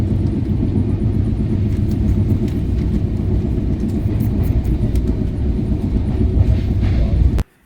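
A double-decker passenger train running between Chennai and Bengaluru passes stations without stopping, giving a steady loud rumble with faint clicking and rattling throughout, cutting off abruptly at the end.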